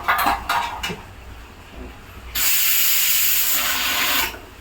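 Metal clatter of a pressure cooker lid being handled after two whistles with the stove off, then a loud, steady hiss of escaping steam that lasts about two seconds.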